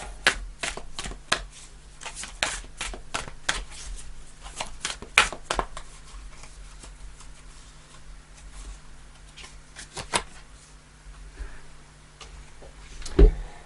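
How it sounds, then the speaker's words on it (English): Tarot cards are shuffled close by in quick bursts of crisp snapping and riffling, then quieter gaps with occasional single flicks and a final thump. "I'll do a couple more shuffles"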